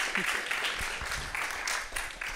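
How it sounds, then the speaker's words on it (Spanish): Audience applause at an awards ceremony, a steady wash of clapping from a crowd filling the whole moment, fairly close and even in level with no clear talk over it. "Un aplauso."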